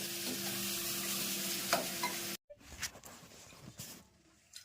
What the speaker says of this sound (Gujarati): અને સરસ મજાનો સેવડો વઘારાઈ જશે.